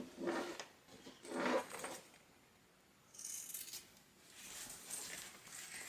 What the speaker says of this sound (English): So what we wanted to do is trim that end off without cutting the seam.